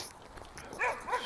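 A dog barks outdoors in cold weather, giving two short, fairly close yips or barks near the end of a brief, quiet moment.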